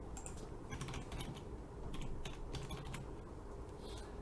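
A password being keyed in on a computer keyboard, a quick patter of light key clicks heard close over a steady background hiss, without any speech.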